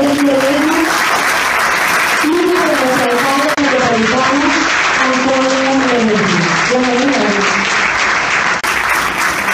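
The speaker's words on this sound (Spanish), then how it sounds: "Un fuerte aplauso para Uriel Ledesma y para los hermanos" Loud, sustained applause fills an auditorium at a Venezuelan political event, with a crowd clapping densely throughout while a voice rises above it in shouted or chanted tones.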